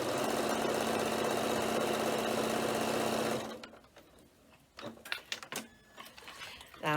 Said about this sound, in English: So I'll just top stitch that.